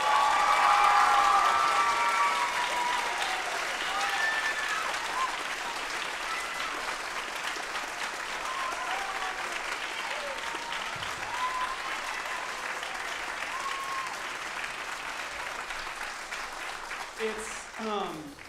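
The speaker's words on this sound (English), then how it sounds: "can we give one more round of applause?" Concert audience at a high school spring band concert applauding for Colt Michael, steady dense clapping from a large crowd that fades slightly over the length, ending in a few scattered sounds.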